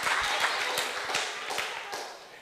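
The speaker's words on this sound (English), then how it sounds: "Let's have some thunderous applause for Syria" Audience applause at an indoor talk, a thin wash of clapping with a few distinct, sharper individual claps standing out at an uneven pace, moderately quiet and tapering off gradually.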